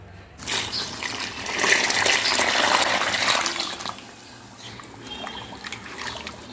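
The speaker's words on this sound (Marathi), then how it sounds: "पुरेसं पाणी घालायचं आहे" Water is poured steadily onto sifted, coarse-ground millet grits to soak them, a continuous rushing, splashing pour that swells and then eases into a softer trickle, close and fairly loud, with no voices.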